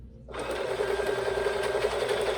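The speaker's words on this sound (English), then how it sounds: "now all I have to do is sew this to the side with my 1/4 inch stitch" A sewing machine whirs into a steady, fast stitching run after a brief silence, sewing a quarter-inch seam along the side of a quilt with mitered corners. The hum stays close and even throughout.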